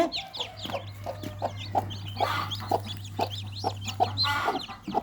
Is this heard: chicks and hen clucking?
yes